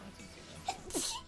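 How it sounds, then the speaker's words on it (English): A person sneezes once, a short sharp burst that is fairly faint and close, set against quiet game background, with a brief spoken phrase just before it. "didn't know you were gonna sneeze"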